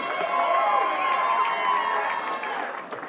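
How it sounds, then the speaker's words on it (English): An audience at a boxing Hall of Fame ceremony applauds and cheers, a steady, full crowd roar that fades slightly at the end, with voices mixed in. "Give a big round of applause."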